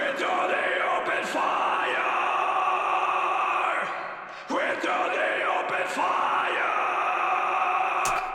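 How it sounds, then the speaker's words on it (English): Layered recorded vocal growls, bounced from left and right takes, sit inside a dense, aggressive metal mix, with rough guttural bursts recurring over sustained music and a brief dip midway. "to add some more aggressiveness, I added these growls"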